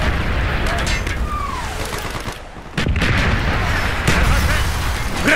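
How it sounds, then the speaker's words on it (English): Mortar fire in Call of Duty: Black Ops during a battle mission, with loud continuous booming gunfire and explosions, a whistling shell passing, and distant shouting voices under the barrage. "Firing mortars!"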